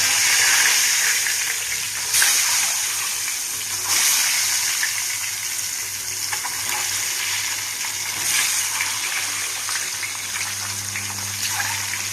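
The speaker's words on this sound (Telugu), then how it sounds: "ఇప్పుడు కోడిగుడ్లు వేసుకున్నామండి" Boiled eggs fry in hot oil with turmeric, making a loud, continuous close-up sizzle with occasional sharper spits and crackles over about twelve seconds, and no voices.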